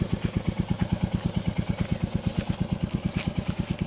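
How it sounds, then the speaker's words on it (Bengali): A motorcycle idles close by just after starting, its engine thumping in a fast, even pulse of about eight beats a second that stays steady throughout, with no talk. "এরকম বাইকটা রেডি হয়ে গেছে, স্টার্ট দিয়ে রেখেছি"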